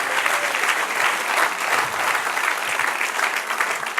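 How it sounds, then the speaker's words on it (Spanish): Church congregation applauding during a Spanish-language sermon, a steady dense wash of clapping hands filling the room at close range for the whole stretch, with no speech over it. "Dale un aplauso al Señor."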